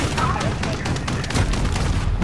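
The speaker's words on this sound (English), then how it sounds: "I hate that stupid ass machine fucking gun." Rapid bursts of machine gun fire from a vehicle-mounted gun in the Call of Duty: Modern Warfare video game, dense and loud throughout with booming impacts mixed in, heard under a player's voice.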